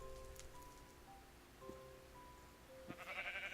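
Sheep bleating in a Minecraft adventure map, a couple of short game bleats over quiet ambient background with faint rain-like hiss, moderately close.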